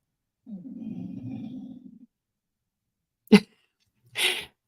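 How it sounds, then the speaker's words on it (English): A dog makes a low, drawn-out grumbling whine, followed after a pause by a sharp snort and a breathy sneeze-like huff. "I don't know what that noise is, but I think it's my dog."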